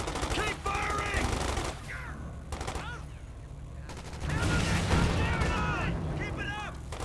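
Machine gun bursts and rifle fire in a Company of Heroes 2 multiplayer battle, repeated rattling volleys of varying intensity layered with distant battlefield noise, while voices talk over the combat.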